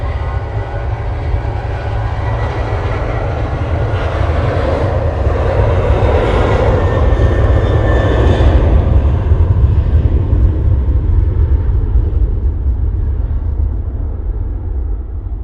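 Airplane taking off from Manchester Airport bound for Madeira, heard as a loud continuous jet engine roar with a deep rumble that swells and then slowly fades, steady and nearby on a windy day.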